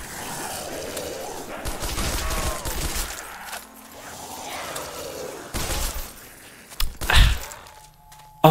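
Gunfire from weak starting-room guns in Super Mario 64 Zombies, a run of sharp game gunshots with cracks and mechanical clicks, bursts separated by gaps, mixed with other game sounds.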